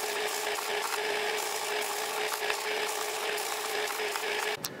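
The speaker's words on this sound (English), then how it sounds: "Finally, I'm just going to run it through the sander." A power sander works a cut wooden piece for a steampunk chronograph clock, giving a steady, close abrasive whir with a constant hum that runs unbroken before stopping abruptly near the end.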